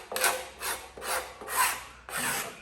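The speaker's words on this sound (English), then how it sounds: "I like scraping off the glue with my scraper" Steel hand scraper shaving dried glue off a wooden guitar neck, five separate rasping strokes in a steady rhythm, close and clear with nothing else behind them.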